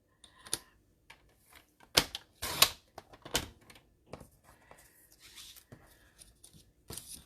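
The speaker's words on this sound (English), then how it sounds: "I'm going to cut off a 1/2 inch on this right side" Card paper being trimmed half an inch along one side on a paper cutter, a series of short sharp snaps and slides with quiet rustling between them, close and fairly faint.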